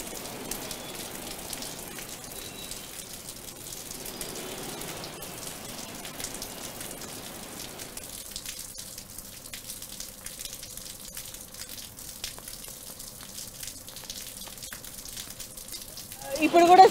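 Heavy rain pours steadily in Telangana, a dense continuous hiss of drops striking surfaces, with a voice speaking faintly over it near the start.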